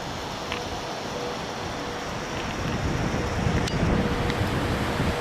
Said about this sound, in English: And you can hear the wind gusting.